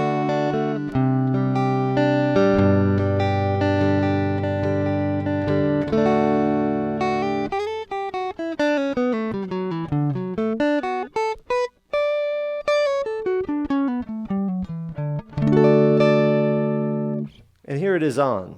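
Dry, clean electric guitar plugged straight into an audio interface strums sustained chords, then shifts to single-note runs and sliding phrases before returning to chords, sounding close and unprocessed.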